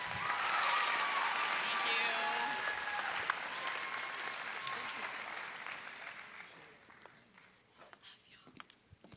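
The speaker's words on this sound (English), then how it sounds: "One more big round of applause for these students." A pitch night audience of friends and family applauding students, a loud sustained round of clapping with some cheering that gradually thins out and fades over the final seconds, with voices beneath.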